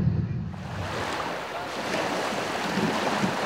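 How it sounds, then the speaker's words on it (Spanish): Steady outdoor wind in Patagonia, a constant broadband rush with buffeting gusts against the microphone, loud and close throughout with no other sounds. "Un poco ventoso."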